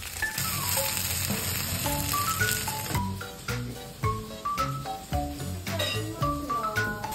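Gyoza fry in a pan over high heat after a slurry is poured in, sending out a dense, steady sizzle with crackling pops, heard close up and alone under a bright tonal music bed.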